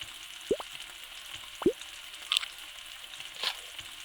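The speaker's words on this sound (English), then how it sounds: "Listen to that sizzle." A steady crackling sizzle of food frying in a pan, punctuated by a few soft plops and sharper pops, with no voices.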